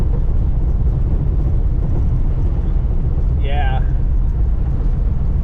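A 1940 Mercury cruising at about 40 mph, its loud, steady engine and road rumble running continuously while the fender and steering wheel shake; one brief spoken word and a short whistling squeal break through partway.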